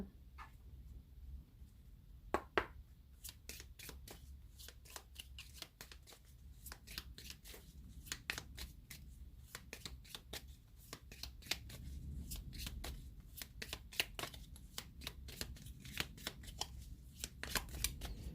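Tarot cards are shuffled by hand in quick, crisp riffling bursts, close and fairly quiet, with short pauses between clusters of snapping card edges.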